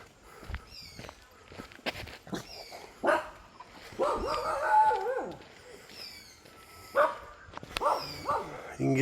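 A dog barks several times in the jungle, in loud, separate bursts between footsteps and brief human talk nearby.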